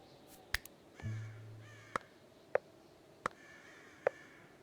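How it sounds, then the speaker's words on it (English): In the medieval colony-building game Going Medieval, crows give about five short, sharp caws spaced roughly a second apart. The calls stand out clearly over faint ambient background, with a brief low tone partway through. "the constant crow noises"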